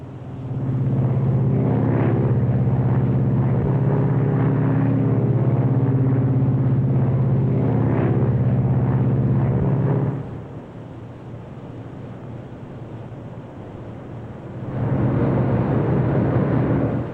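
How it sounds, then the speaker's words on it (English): A loud, steady roar of a 1953 airliner engine fills the cockpit on approach as the landing gear lowers, the drone dipping midway and then swelling back up. "Gear down. Gears coming down."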